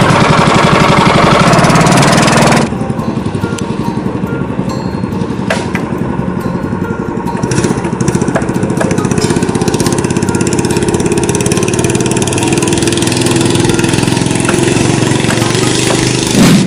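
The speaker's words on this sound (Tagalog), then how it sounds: "ang nakakaganda sa pambot namin is yung makina is isang push mo lang is talagang aandar na siya" A pumpboat engine runs loud and close with a steady mechanical chugging rattle, dropping slightly in level after a few seconds and then droning on unchanged.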